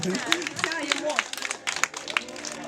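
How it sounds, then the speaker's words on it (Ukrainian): Applause from guests at a wedding ceremony: scattered clapping with sharp irregular claps over a few seconds, mixed with talking and crowd murmur. "Ви бачите, аплодисменти, аплодисменти."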